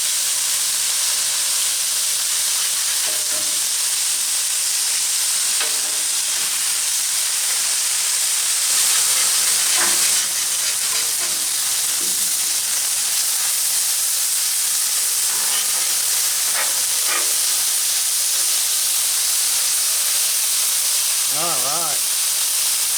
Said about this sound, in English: Oh yeah, look at that sear.